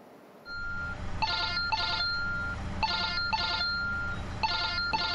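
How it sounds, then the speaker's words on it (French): Telephone ringing in a vehicle inspection centre, a repeated electronic ring in paired bursts over a steady background hum, close and clear with no talking. "le téléphone n'arrête pas de sonner"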